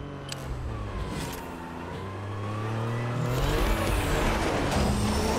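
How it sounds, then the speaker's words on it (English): A car in the Fortnite video game drives closer, its engine humming low and steady before revving louder and rising in pitch as it nears, with no voices over it. "It's a car, and it's heading in this direction."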